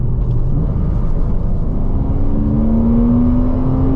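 Porsche engine howling as it accelerates, heard from inside the car as a loud, steady roar whose pitch climbs smoothly through the revs, with no talking over it.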